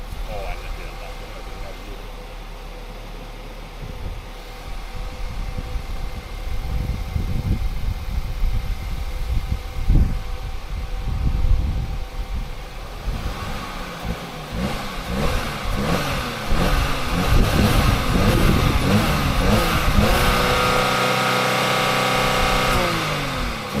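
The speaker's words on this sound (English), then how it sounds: "Let's try some revving." An Audi car engine idles with a low rumble, then is revved again and again in rising and falling surges that grow loud and close before settling back.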